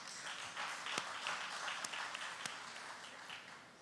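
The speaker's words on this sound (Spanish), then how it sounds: "para quien también pido un aplauso" An audience applauds at a human rights forum, a steady, fairly faint spread of clapping from many hands. A few sharper individual claps punctuate it.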